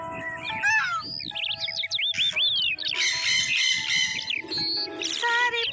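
Many birds sharing a very large peepal tree, heard as a dense, continuous chorus of squawks, chirps and whistled calls that overlap loudly and steadily from start to finish, with no talking.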